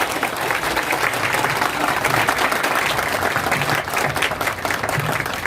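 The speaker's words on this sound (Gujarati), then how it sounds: "એકવાર માળી માટે જોરદાર તાળીઓનો ગડગડાટ" At a religious discourse gathering, an audience breaks into loud, continuous applause for a gardener, the clapping dense and steady from start to finish.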